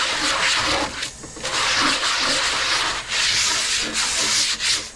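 Dish rinsed and scrubbed under running water with lots of fresh soapy suds, giving a steady, loud abrasive rubbing and splashing that runs almost unbroken, with brief dips in intensity.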